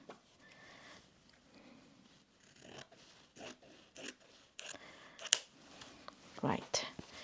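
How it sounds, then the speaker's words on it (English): Scissors snip through fabric cut from old clothing, following a marked line for quilt patchwork; a run of short, crisp cuts builds toward louder snips near the end, with soft speech underneath early on. "I'm gonna cut this size down. So I'm just kind of gonna follow the line."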